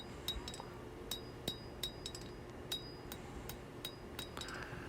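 Hammer blows drawing out the point of a camp knife blade at the anvil, about a dozen sharp ringing metallic strikes in an uneven rhythm, close and fairly loud over a steady background hum.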